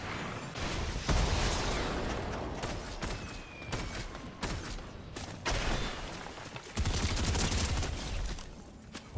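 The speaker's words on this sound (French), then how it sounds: "Ça tire vers toi, non?" Fortnite gunfire, repeated bursts of rapid shots and booms in uneven clusters, fairly close and loud with short gaps between volleys.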